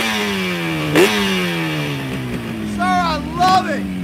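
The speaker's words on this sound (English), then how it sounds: "This is what I'm talking about, a Yamaha RD two-stroke." Yamaha RD two-stroke motorcycle at a Biketoberfest bike rally, its engine revving with a sharp blip then settling into a buzzing, rising and falling drone, loud and close, with brief voices or other engines in the background.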